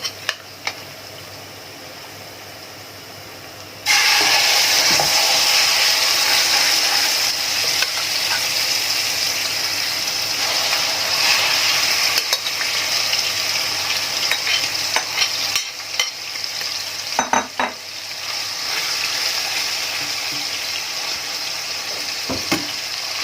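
Alexandrian-style liver drops into hot oil in a pan and breaks into a loud, steady sizzle after a quiet start, with occasional stirring clatter as the frying continues.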